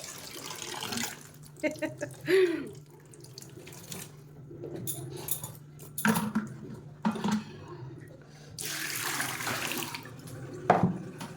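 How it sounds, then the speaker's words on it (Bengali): Water runs from a kitchen tap into a container with splashy bursts that start and stop, while someone talks over it and household clatter sounds nearby. "জল ভরে গেল হয়ে হয়ে গেছে"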